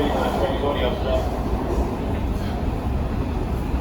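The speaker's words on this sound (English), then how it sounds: "this is the 6000 series on the orange line that we just rode" A WMATA 6000 Series Orange Line metro train rumbles along with a steady low roar and faint rattling from inside the car, while people talk over it.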